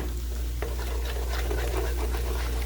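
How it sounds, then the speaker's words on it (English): Scrambled eggs stirred into fried rice in a hot pan, a continuous scraping and sizzling with repeated spatula strokes, close and steady throughout. "And start stirring. Don't let them become one piece."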